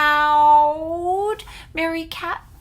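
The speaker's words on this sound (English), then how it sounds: "meowed Mary Cat, bouncing onto the road" A cat meows several times in a row: a long drawn-out call first, then shorter rising meows, close and fairly loud over a low rumble.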